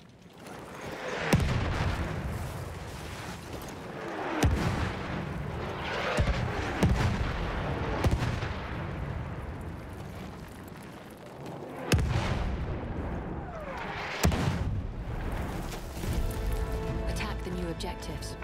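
An enemy artillery barrage in the video game Battlefield 1 booms in repeated heavy blasts a few seconds apart over constant battlefield rumble, with talk heard throughout.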